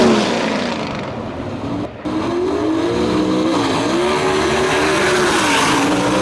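Race cars roar past at a dirt track in Lyons, Indiana, their engines loud and sustained, with revs rising and falling as they chase each other, in a Wagler Motorsports event.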